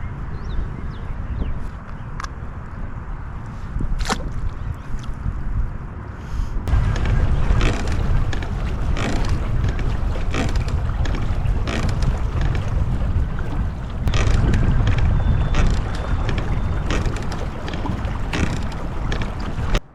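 Strong gusty wind buffeting the microphone on a lake during bass fishing from a small boat, a loud roaring rumble that surges and intensifies midway, with wind-driven water and occasional knocks, no talk.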